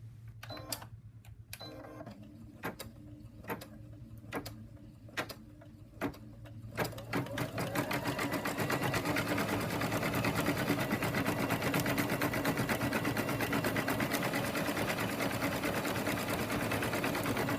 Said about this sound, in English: And now I'm going to put the hoop back into the machine and stitch out the last step.